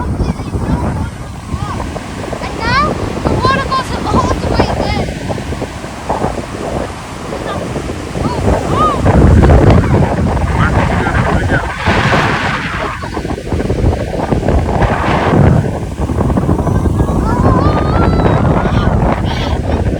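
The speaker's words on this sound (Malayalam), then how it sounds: "സീയൊക്കെ ഭയങ്കര റഫ്" Rough surf and gusting wind batter the shore ahead of Cyclone Alfred, a steady roar of waves with wind buffeting the microphone, while people talk intermittently over it.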